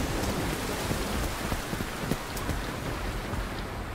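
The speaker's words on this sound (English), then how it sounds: "Mid-December, the rains come." Heavy rain pours down in the jungle, a dense, loud, continuous hiss with scattered heavier drops and no voices.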